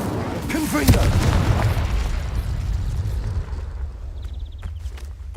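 A Confringo spell explosion in Hogwarts Legacy, a loud booming burst early on that rumbles and fades over several seconds, with a voice speaking over the blast and faint game effects afterward.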